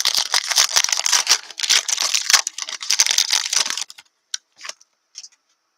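Rapid, busy clicking of keys on a computer keyboard runs steadily for a few seconds, then trails off into a few isolated taps, close and fairly loud with no talk.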